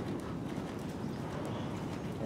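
Horse hooves thud faintly in a muffled, steady cantering rhythm during a riding lesson, with no voices over them.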